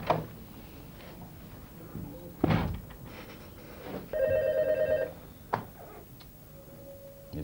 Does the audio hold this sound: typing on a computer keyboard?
no